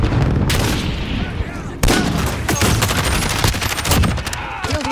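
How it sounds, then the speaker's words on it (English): A grenade blast and automatic gunfire in Call of Duty: Modern Warfare, with a sharp boom partway through amid sustained rattling shots and chaotic battle noise, loud and close, with voices shouting in the mix. "Grenade out!"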